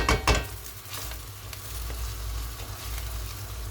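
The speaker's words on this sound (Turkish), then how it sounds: "Salçamı da şöyle biraz kavuruyorum." Tomato paste frying in a pan with chopped tomatoes for a bulgur pilaf, a soft steady sizzle with a couple of stirring clatters at the start, close and moderately quiet.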